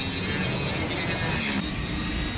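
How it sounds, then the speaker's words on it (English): An expensive APR splitter being cut makes a loud, steady abrasive rasping grind that drops in intensity abruptly near the end, close up with no voices. "Is it exciting seeing someone cut up an expensive splitter?"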